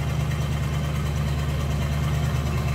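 A 1968 Mercury Cougar's 302 V8 engine idles close by with a steady, low, rumbling burble and a slightly uneven throb.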